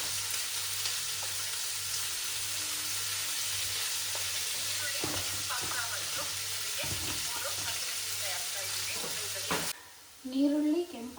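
Onions fry in a pan in a home kitchen, a steady broadband sizzle with occasional stirring scrapes and clatters, then the hiss cuts off near the end as brief voices and clinks follow.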